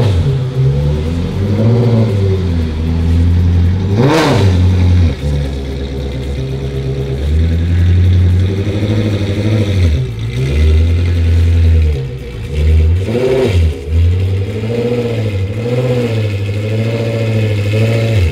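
Ferrari F430 engine strapped down on a dyno, loud and close, revving repeatedly with rising and falling pitch sweeps between steadier holds, one sharp bark near the start.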